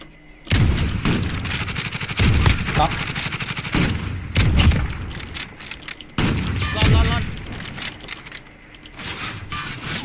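Bursts of automatic gunfire from the video game Call of Duty Warzone, an M13 rifle, rattle in several loud volleys, with players talking in the background.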